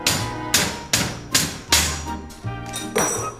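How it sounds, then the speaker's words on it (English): A hammer strikes a child seat to knock it off a bicycle, landing about eight sharp, loud thuds at a steady rhythm close up, with metallic ringing after each blow. "And a hammer to get rid of that child seat."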